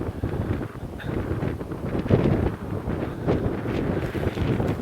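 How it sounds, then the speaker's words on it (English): Wind gusting and buffeting inside the tall stone Daymark tower at Kingswear, a steady rumbling roar that swells and eases, with no voices. "It's always really windy inside here."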